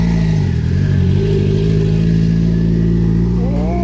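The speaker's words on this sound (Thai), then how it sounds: "เป็นคาราวานรถแต่งก็จะอยู่ประมาณนี้เนาะ" A caravan of modified cars near the Laos–Thailand Friendship Bridge, their engines idling loudly and revving with a deep steady drone and rising pitch sweeps, close and continuous.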